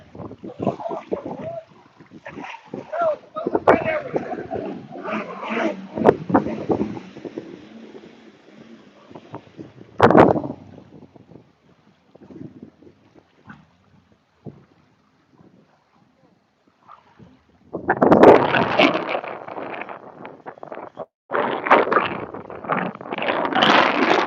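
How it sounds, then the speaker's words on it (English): Wind gusts buffet a phone microphone outdoors, bursting into loud rumbling spells with quieter gaps between them. A voice talks over the buffeting at times. "It's windy."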